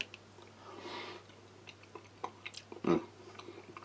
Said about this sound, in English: the beef is soft, doesn't take a lot of chewing, it's well cooked.